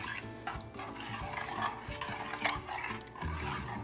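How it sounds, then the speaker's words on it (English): A spoon stirs an 8-ounce bag of cheese into thick green chile enchilada sauce in a pan over low heat, giving steady close scraping and soft sloshing with light clinks against the pan. "I'm gonna stir it up because I want it to be pretty thick."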